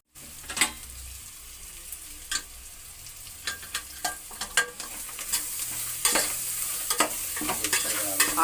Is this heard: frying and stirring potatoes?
yes